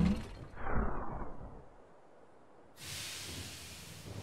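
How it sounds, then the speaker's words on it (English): Train pulling into a station in the strategy game They Are Billions: a hissing whoosh swells and fades, a short lull, then a loud burst of steam-like hiss releases, all without voices. "The train has arrived at the station."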